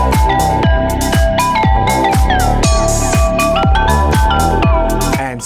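Steady driving pattern from an Arturia MiniFreak six-voice hybrid analog synthesizer, regular deep kick-like pulses under a sustained bright lead line, loud and continuous throughout.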